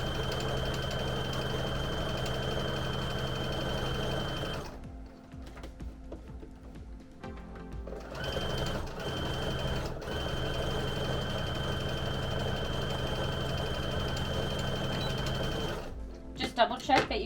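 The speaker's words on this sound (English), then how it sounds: "I'm still just doing a straight stitch." A sewing machine runs a straight stitch through plush fur fabric, a steady close mechanical whir that pauses briefly midway, then resumes and ends with a few clicks.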